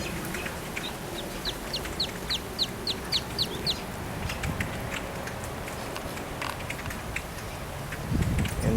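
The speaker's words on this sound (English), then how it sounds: "And the birds have taken over Sawgrass Mills." Ducks and other birds feeding outdoors at Sawgrass Mills mall in Sunrise, Florida: a quick run of chirps and clucking calls near the start, then scattered calls over steady outdoor background noise.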